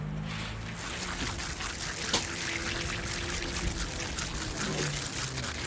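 Water is poured steadily onto garden plants to soak them, making a continuous close splashing and trickling over a constant background.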